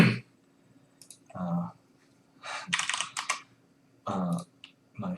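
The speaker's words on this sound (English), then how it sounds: "I think it's my favorite keyboard that I can remember." Typing on a mechanical computer keyboard, heard as a few short bursts of clicky keystrokes that alternate with someone speaking over a low steady hum.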